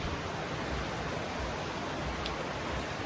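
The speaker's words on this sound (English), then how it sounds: "Yeah, it's raining." Steady rain falls on a Melbourne day, a dense even hiss of drops on surfaces, constant and fairly close, with no talk.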